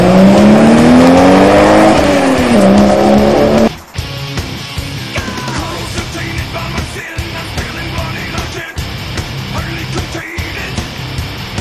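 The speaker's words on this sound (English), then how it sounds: "Whose car is that?" A video game car revs and pulls up, engine tone rising and falling loudly for a few seconds before cutting off, then quieter idling and rumbling noise with occasional clicks.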